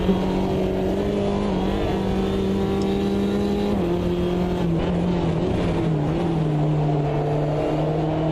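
A Clio Cup race car at Kyalami in the video game Automobilista 2 holds a loud, steady engine drone close up, its pitch shifting slightly as the throttle changes, with a brief faint tyre squeal.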